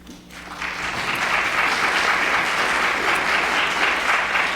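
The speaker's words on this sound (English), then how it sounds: "I'm actually going to ask if you would hold your applause to the very end so we can move along" Steady, loud applause from an audience at a town meeting after a District 1 attendee is welcomed, swelling quickly and holding as a dense wash of clapping without talk.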